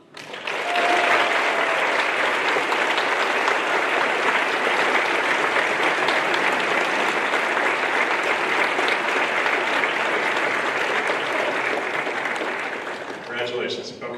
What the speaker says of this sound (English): before you stand up and applaud